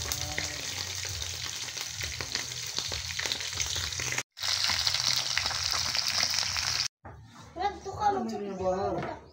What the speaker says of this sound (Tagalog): Ay, pumitik yung mantika.